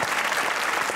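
Studio audience on a Pakistani comedy talk show breaks into steady, dense applause, loud and continuous for the whole second with no voices on top.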